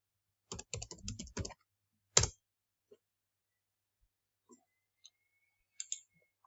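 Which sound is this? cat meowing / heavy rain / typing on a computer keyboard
typing on a computer keyboard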